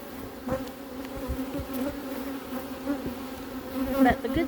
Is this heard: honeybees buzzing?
yes